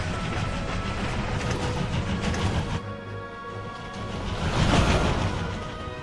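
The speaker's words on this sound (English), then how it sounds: "What? Doom train?" A train rolls in during a Final Fantasy video game scene, a steady broadband rumble of wagons with a brief dip before the noise swells louder again near the end, no voices.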